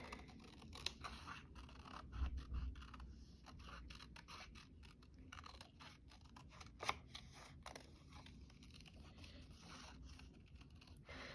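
Close, quiet snipping and scratching of scissors trimming paper, with a steady run of small cuts and a few louder clicks against faint background noise and no talking.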